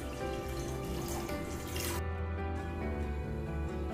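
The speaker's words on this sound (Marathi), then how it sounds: "एक ग्लास पाणी घालते" A glass of water pours into a kadhai on the stove, a close, steady splashing stream that stops about halfway, leaving a faint background hum and a few drips.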